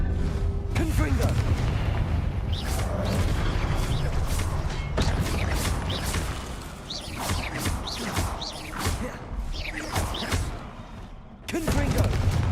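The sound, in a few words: Confringo fire-blast spell explosions, Hogwarts Legacy video game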